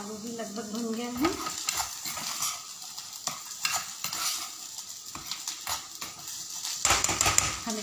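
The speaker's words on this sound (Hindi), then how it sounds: "इधर हमारा आलू भी लगभग भुन गया है।" Potatoes roasting in a pan, stirred with a metal spatula in quick repeated scrapes and clatters over a soft sizzle, close and moderately loud.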